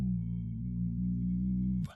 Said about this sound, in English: Number 2 for straw phonation is you're going to do that low, gentle vocal fry through the straw